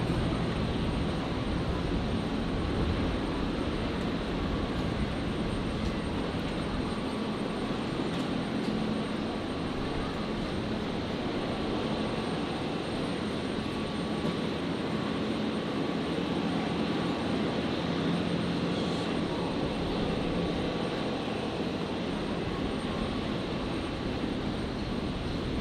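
A Hamilton Island Embraer jet arriving on runway 01 left at Brisbane, a steady broadband roar that holds for the whole stretch, fairly distant and unchanging in loudness with no voices.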